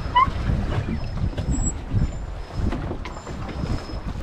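A pedal boat churns across the water of a dam reservoir at Anayirangal, giving a steady low rumble with splashing and paddle noise throughout, fairly close and with no voices.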